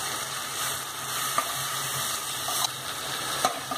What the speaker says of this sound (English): I'm going to stir fry these chops a bit till they turn a little different color